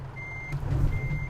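Truck reversing beeper in Euro Truck Simulator 2, a steady high electronic tone sounding in two long pulses over the low hum of an idling truck engine, with no talking.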